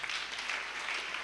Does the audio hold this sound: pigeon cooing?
no